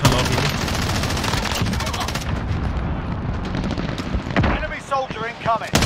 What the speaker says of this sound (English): hearing a lot of gunfire, but where the hell are we?